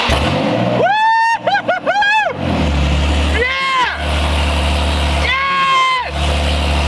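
Nissan 370Z running on open headers during a rebuild, a loud steady low engine rumble with rising whoops and excited voices cutting in over it.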